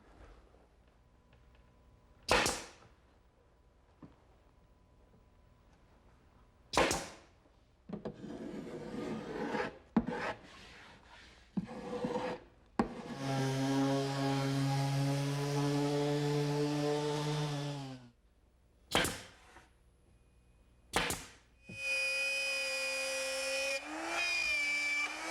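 A power saw cuts a skylight opening in a roof, heard in close bursts of loud buzzing and grinding with a rising pitched whine, broken by sharp knocks and quieter pauses.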